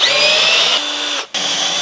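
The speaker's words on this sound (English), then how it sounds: "This drill was actually smoking before." A Ryobi power drill that had been smoking earlier runs with a loud, steady, close whine. It cuts out for a split second near the end, then picks up again.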